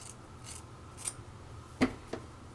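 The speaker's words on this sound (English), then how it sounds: "I'm just going to cut them straight across." Scissors snip across hair bangs in a quiet room, a few soft sharp cuts with one clearer, louder snip near the end.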